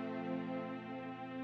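A brief stretch of Minecraft's game music, a soft sustained tonal chord held steady and faint for just over a second, with no talk.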